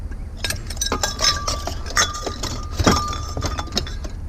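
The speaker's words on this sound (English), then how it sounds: "Better chance of breaking glass that way" Glass breaking and clinking while scavenging after a hurricane: repeated sharp chinks and crunching shards scattered through the clip, with dull thuds underneath, close and fairly loud.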